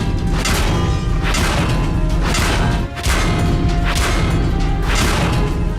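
Medium-severity damage impact on an armored vehicle in a tank video game, dense crashing metallic hits and thuds in a loud continuous cluster with a brief dip midway, no talking.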